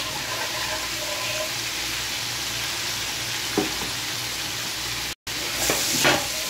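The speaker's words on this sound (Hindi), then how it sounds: "और इस साथ में मैं ये अदरक लहसुन का पेस्ट और इलायची डाल दूँगा।" Ginger garlic paste and cardamom sizzling in a hot pan for chicken biryani, a steady loud frying hiss throughout with a couple of brief stirring clatters near the end.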